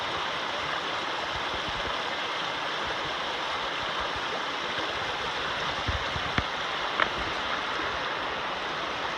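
A mountain stream in Great Smoky Mountains National Park rushes steadily along a backpacking trail, a constant broad wash of flowing water with a couple of faint knocks partway through.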